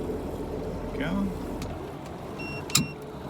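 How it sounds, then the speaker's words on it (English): A quiet outboard motor on a Ranger VX1788 boat hums low and steady nearby, with a few brief thin tones and a short knock over it. "The motor of this boat's really nice. It's really quiet compared to the older"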